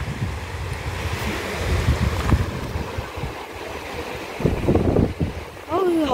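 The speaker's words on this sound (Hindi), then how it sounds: "यहाँ बहुत हवा चलता था" Strong wind gusting by a river during traditional net fishing, a rough, blustery rush buffeting the microphone in uneven surges, with voices talking intermittently.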